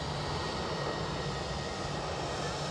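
An EasyJet airliner taxis past at Edinburgh airport, its jet engines giving a steady, fairly faint broadband rumble and whine throughout.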